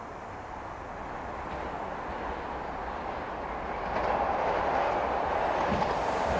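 A diesel ICE-TD train rolls slowly on a non-electrified, single-track line near Bad Schwartau, heard as a steady rumbling ride noise that swells a little louder toward the end, with no voices.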